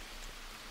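Steady, soft rain falls continuously in the Green Hell jungle survival game, a faint, even patter and hiss with no talking.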